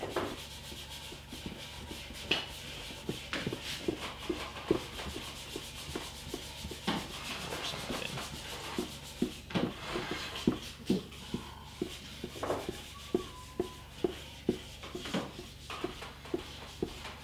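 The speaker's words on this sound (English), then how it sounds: "If you want to switch to more of a slightly buffing motion" French polish is buffed onto an antique parlour guitar with a pad, making a steady, close rubbing swish broken by many small taps and knocks in an uneven rhythm, with no talk.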